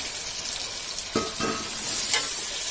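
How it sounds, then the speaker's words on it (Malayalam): Tomatoes tossed into a frying pan and stirred while cooking prawn biryani, giving a steady frying hiss with two or three short scraping stirs partway through, close and moderately loud, with no talking. "നമുക്ക് ഇതിനകത്തോട്ട് തക്കാളി ഇട്ട് കൊടുക്കാം."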